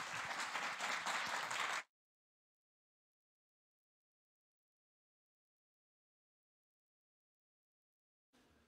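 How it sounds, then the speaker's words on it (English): Audience applause at a Ruby programming conference talk, a dense burst of clapping for about two seconds that cuts off abruptly, followed by long silence and a faint return of sound at the very end. "Please give him a warm round of applause."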